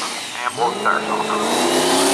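Drag race car at Maryland International Raceway launching hard and spinning its tires, a loud close engine roar rising and holding steady over about two seconds with faint voices underneath.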